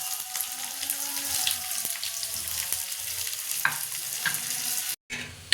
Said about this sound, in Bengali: এবার তাওয়াতে 2টো মিডিয়াম সাইজের পেঁয়াজ কুচি আমি দিয়ে দেবো।